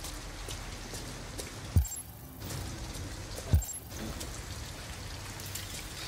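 Steady rain pours in a dense, even hiss outdoors near an abandoned house, broken twice by short sharp clicks.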